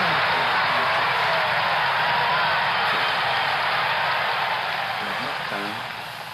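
Simulated crowd roaring in a horse racing video game, a dense, loud wash of cheering and whooping that carries steadily throughout and eases off slightly near the end.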